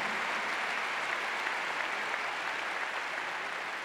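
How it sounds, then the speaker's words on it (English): An audience applauds the University of Texas organization at the Oklahoma State 'Remember the Ten' tenth anniversary memorial. The clapping is dense and sustained, a steady even roar from start to finish with no voices over it. "I think they definitely deserve a round of applause for coming out and doing what they did tonight."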